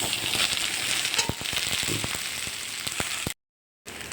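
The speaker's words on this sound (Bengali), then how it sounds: "হালকা ভাজা ভাজা হতে থাক" Okra and potato pieces fry in an oil-filled pan, giving a steady close sizzle dotted with small pops and crackles, broken by a brief silent gap near the end.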